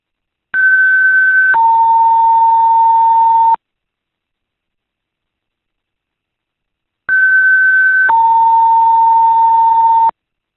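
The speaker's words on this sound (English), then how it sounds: "This is the last alarm call from Marshall Fire Department Firefighter 213, Randall Scott Davenport" Two identical fire department dispatch alert tones, each a loud electronic two-step tone lasting about three seconds, separated by a few seconds of silence.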